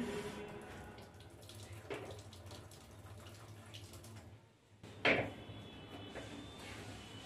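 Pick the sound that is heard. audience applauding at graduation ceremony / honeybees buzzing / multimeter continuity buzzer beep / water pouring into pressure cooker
water pouring into pressure cooker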